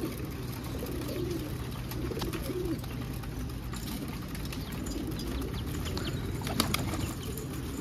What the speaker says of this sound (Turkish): Afiyetle kuşlarımız yemlerini yiyorlar.